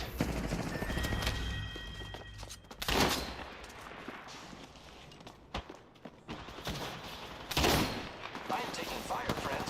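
Rapid bursts of automatic gunfire in an Apex Legends match, with loud clusters of shots near 3 and 8.5 seconds over a continuous bed of more distant firing and game sounds.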